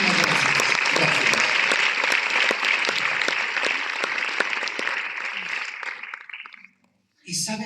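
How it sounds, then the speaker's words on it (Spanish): A church congregation applauds in gratitude during a pastor's sermon, dense clapping that starts loud and gradually fades out, followed by a brief silence and then a voice speaking. "demos un aplauso de gratitud"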